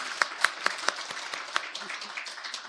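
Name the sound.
congregation applause of encouragement in church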